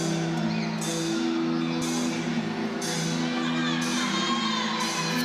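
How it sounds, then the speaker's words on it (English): Home crowd at a Clemson at NC State gymnastics meet, yelling and cheering in a steady, dense roar that fills the arena without a break. "There's a lot of yelling, a lot of cheering going on"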